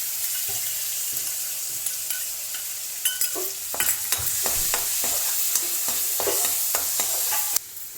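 Bay leaf and ginger garlic paste sizzle steadily in a pan for a home-style cabbage curry, with sharp clinks and scrapes of a spoon stirring through the oil.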